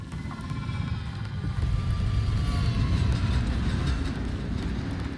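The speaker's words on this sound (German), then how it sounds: "Okay, der Zug ist da unten." A train rumbles past below the player in the video game Killzone: Shadow Fall, a heavy low roar that swells after the first second and holds steady, with faint metallic rattling over it.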